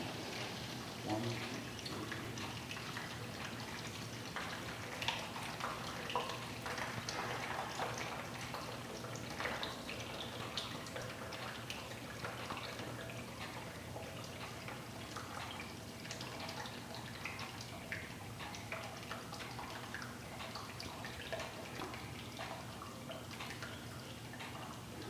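Hot water, about 3.2 gallons at roughly 170 degrees, runs steadily into a homebrew mash tun for an amber ale, a quiet continuous splashing trickle with faint drips that holds for the whole stretch.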